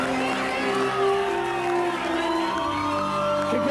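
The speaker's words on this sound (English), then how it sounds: "you should give Andrew Mackay a real round of applause" Crowd at the 2003 Carlton best and fairest awards night applauding and cheering for Robert Reynolds Trophy winner Andrew Mackay, a steady dense wash of clapping with whoops over background music, continuous throughout.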